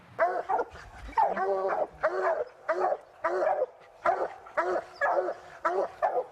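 Hunting dogs bark repeatedly at a youth competition raccoon hunt, with several dogs giving steady, rhythmic baying in bursts about half a second apart, moderately close and loud with no talking over them.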